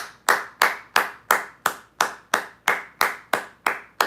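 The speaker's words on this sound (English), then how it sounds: "We gotta clap him in" Sharp, evenly spaced hand claps, about a dozen in a steady beat, ring out close and alone to welcome a new channel member during a Saturday Q&A livestream.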